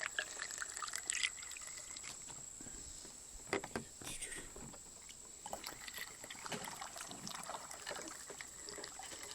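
Homemade hot pepper spray water being rinsed and poured into a garden jug outdoors on a windy day, a steady trickle and splash with a few louder sloshes, with wind noise throughout.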